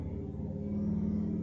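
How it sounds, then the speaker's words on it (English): Low, steady engine rumble of a large semi-truck idling in the background, a continuous deep drone with a slight hum holding throughout, no voices. "it sounds like a big engine"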